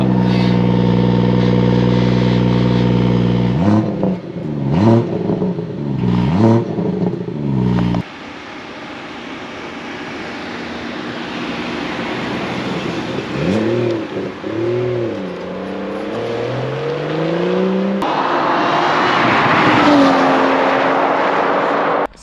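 A BMW M240i with a Litchfield tune of about 430 brake horsepower and a 3-litre six-cylinder engine pulls hard through repeated rising revs and gear changes, loud and close from inside the cabin, easing to a steady cruise drone before accelerating again.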